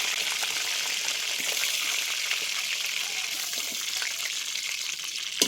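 Marinated chicken pieces frying in a pan for a chicken roast, giving a steady, bright, continuous sizzle that holds close and even throughout.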